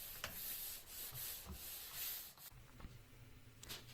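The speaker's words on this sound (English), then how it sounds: "scuff up the surface by using a 150 sanding grit" Wood paneling is scuffed by hand with 150 grit sandpaper: quiet, close rhythmic rubbing strokes with short pauses between passes.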